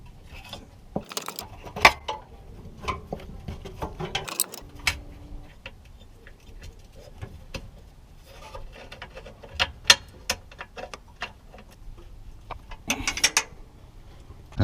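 Ratchet spanner with a socket tightening bolts on a clamp of a plastic car, giving scattered close mechanical clicks and ratcheting ticks in short bursts with pauses between them, no talking.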